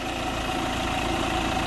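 A 2015 Hyundai Creta SX Plus automatic with 78,000 km on it idles steadily, a close, even engine hum with a faint vibration, no voices and no breaks across the short stretch.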